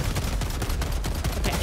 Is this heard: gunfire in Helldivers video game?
yes